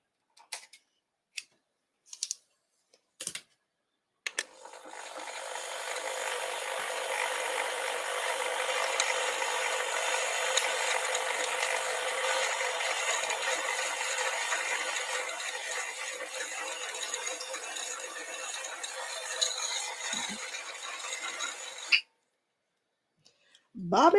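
A sewing machine winding a bobbin while piecing a quilt top: a few separate clicks, then a steady high-pitched mechanical whir that runs for about seventeen seconds and stops abruptly, fairly close with no talking over it.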